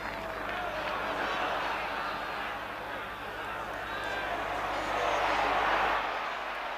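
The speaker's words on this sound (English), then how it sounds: "Crowd urging him on." A football stadium crowd at a 1977 West Ham match roars steadily as a player makes a run, a dense sustained wall of cheering that swells toward the end, with commentary spoken over it.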